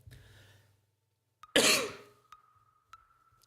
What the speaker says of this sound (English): I'm gonna cough, hold up.